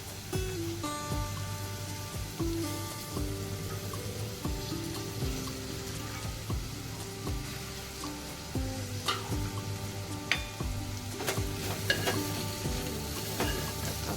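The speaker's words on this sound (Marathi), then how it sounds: "आता आपण भारण चिरून घेतलेली आहे ती यामध्ये टाकणार आहोत" Chopped bharang greens cook with val beans in a pan, with a steady sizzle, repeated scraping stirs and occasional clinks of a utensil on the pan. A faint hum runs underneath, and no one speaks.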